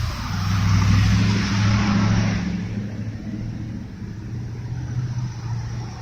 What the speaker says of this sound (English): little car is making an aggressive, negative noise